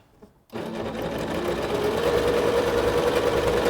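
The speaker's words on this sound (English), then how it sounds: "I'll put my presser foot down, and I'm just going to stitch all the way down along the edge" A SINGER SewMate 5400 sewing machine starts abruptly and stitches steadily along a fabric edge, a close, continuous whirring motor hum with rapid needle clatter and no speech.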